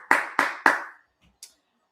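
Three sharp hand claps in quick succession, close and fairly loud, at a women's college basketball championship game, followed by a faint thump and a brief click before quiet.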